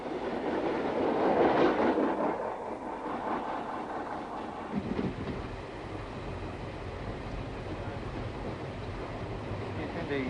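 A Sunlander passenger train on an Australian railway line in 1987, a loud rumble of rolling stock at first that eases into a steadier, quieter running sound on the track, with a faint hint of wheel noise.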